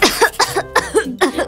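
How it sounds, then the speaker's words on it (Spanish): A cartoon patient coughs repeatedly in a doctor's examination for flu, about six sharp, close coughs in an uneven rhythm with short gaps between them. "Tose bastante."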